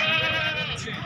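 Goat at a goat market in Pakistan gives one sustained, wavering bleat close to the microphone, with market noise behind it.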